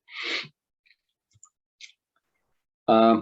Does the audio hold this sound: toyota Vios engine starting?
no